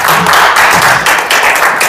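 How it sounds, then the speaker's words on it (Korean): An audience at a local election candidates' debate forum applauds loudly and continuously, a thick wash of close clapping from many hands with no break. "박수 한번 주십시오."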